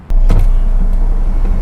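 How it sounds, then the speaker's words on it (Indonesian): Diesel engine of a 2012 Mitsubishi Pajero Sport Dakar cranks over and catches, then settles into a loud, steady close-up idle with no talking. "ini suara mesinnya udah kita nyalain, dan ini mesinnya diesel"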